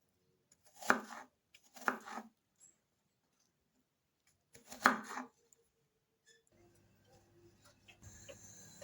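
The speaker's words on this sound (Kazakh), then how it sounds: "Шалманы тураймыз." An onion is chopped on a board in three short bursts of quick knife strikes separated by quiet pauses, followed by faint handling noise. The chopping is close and crisp, with no speech.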